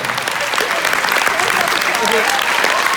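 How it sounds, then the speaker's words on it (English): A large live audience bursts into loud, dense applause with cheering, a steady unbroken roar of clapping filling the whole moment close at hand. "Let's give them all a big round of applause."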